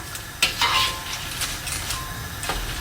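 Banana slices bubble and sizzle steadily in hot oil for a sweet fried Thai banana chip snack, with a few close scrapes and clinks of a utensil stirring through the pan and no voices.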